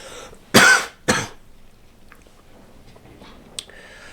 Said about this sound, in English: I just got a cough again